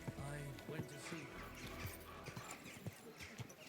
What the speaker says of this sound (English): the horse is automatically slowing down when you enter any like town area